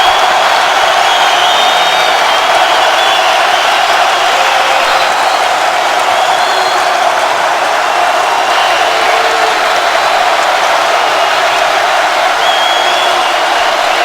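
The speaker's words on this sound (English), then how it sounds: "Listen to the crowd." A basketball arena crowd at a Michigan State vs Minnesota game roars loudly and without a break, a dense wall of cheering and applause from a big room that holds for the whole stretch.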